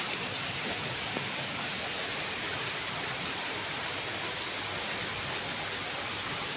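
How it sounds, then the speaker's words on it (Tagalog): Heavy rain pours down steadily outdoors, a dense, even hiss of downpour that holds at the same level from start to finish with no voices. "Dahil sa lakas ng ulan, no?"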